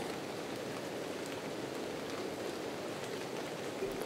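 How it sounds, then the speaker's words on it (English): Steady, fairly quiet patter of rain falling continuously on surfaces in misty weather at Loch Achray, Scotland, with no voices and an even, unbroken level throughout. "Rain still on."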